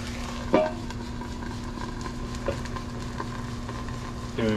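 Cod fillets fry in a cast iron skillet with a steady, low sizzle throughout. A few brief scrapes or taps of a utensil in the pan stand out above it.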